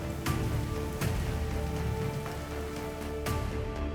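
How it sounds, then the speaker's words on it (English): Steady, dense rain pours onto a surface as a continuous wash, broken by a few sharper splashes and drips, fairly loud and close throughout. "Titan's skies rain down liquid methane"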